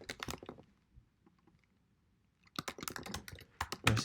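Fast bursts of keyboard typing on a computer keyboard while writing code, a dense cluster of clicks, then a quiet pause, then another rapid run of keystrokes, close and fairly soft.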